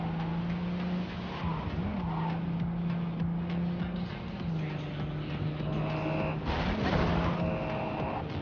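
A car driven in the video game Cyberpunk, with a steady droning engine tone that rises and falls with throttle, plus brief tyre skids and scrapes near the end, heard alone with no talk.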